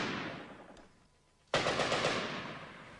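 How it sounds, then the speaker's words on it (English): A Bren light machine gun fired from the hip in jungle fighting on the Kokoda Track during the Second World War. After a quiet stretch, a sudden loud, close burst of rapid shots breaks in and carries on to the end. "Bren gun from the hip"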